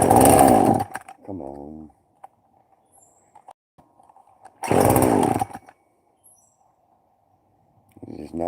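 Chainsaw being pull-started on half choke sputters briefly in two loud bursts and dies each time, with a muffled rattle between pulls and a man muttering under the attempts.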